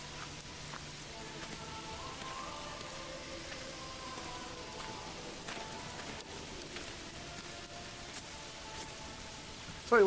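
Steady rain falls across a medieval village in the video game Manor Lords, a continuous even hiss of drops with faint tonal game ambience layered beneath.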